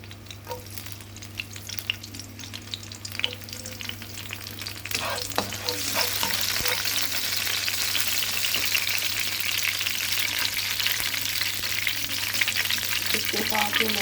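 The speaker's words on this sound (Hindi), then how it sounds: "अब हम पान में ऑयल ऐड कर लेंगे। 1/3 कप हमने ऑयल ऐड कर लिया है। इसमें हम ग्रीन चिली ऐड कर देंगे।" Green chilies hit hot oil in a pan, a loud steady sizzle building after a few seconds of stirring clatter and holding strong to the end.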